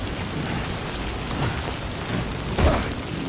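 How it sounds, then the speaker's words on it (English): Steady rain in the video game Death Stranding 2 hisses continuously, with a faint low rumble partway through, no voices. "rain coming down and the lighting."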